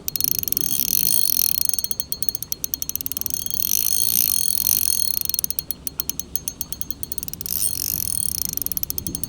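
Shimano Vanquish spinning reel buzzing with a dense, continuous mechanical clicking while line is reeled in on a bluegill fishing trip, close and fairly loud, with brief faster bursts and no speech.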